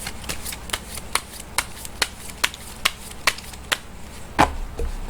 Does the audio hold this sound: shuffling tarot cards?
yes